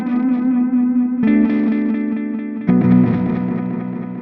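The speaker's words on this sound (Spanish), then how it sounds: "Casi parece que haya una distorsión aquí." Electric guitar chords through a Donner Island delay pedal in retro mode, heavily saturated and almost distorted, with three struck chords ringing out and repeating in echoes.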